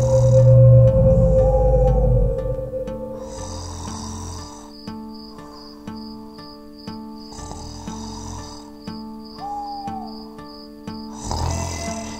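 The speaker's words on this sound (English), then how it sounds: "And the Gruffalo snored and snored and snored." The Gruffalo's slow, rumbling snores in an animated read-aloud story repeat over and over under a soft musical backing, with low grunting breaths and light chiming tones. No one talks.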